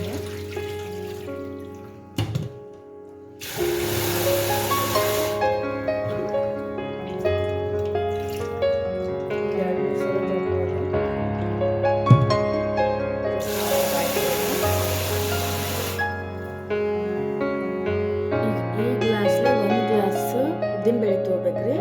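Rice rava is washed in water for idli, with bursts of splashing and pouring under a woman's speech and steady background music.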